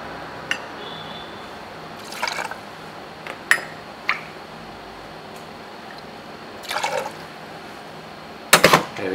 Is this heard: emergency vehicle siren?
no